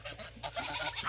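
Farm ducks and geese give a quick burst of faint honks and quacks, a brief scattered flurry of calls at a moderate distance.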